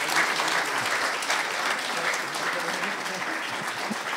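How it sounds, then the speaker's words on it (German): A studio audience at a celebrity cooking show gives the jury a warm round of applause, loud and continuous clapping that stays strong from start to finish with faint voices beneath. "Noch einen herzlichen Applaus unserer Jury,"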